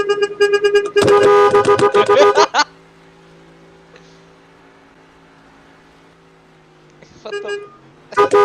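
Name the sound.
car horn honking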